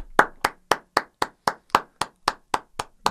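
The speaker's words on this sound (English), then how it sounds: "I need to see the standard clap" About a dozen sharp, evenly spaced hand claps at a steady beat, close and loud with brief silences between them, no voices.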